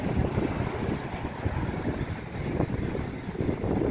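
A Boeing 747-8F cargo jet's engines roar in reverse thrust after landing, a distant, broad, rumbling rush heard through buffeting wind noise, with no speech.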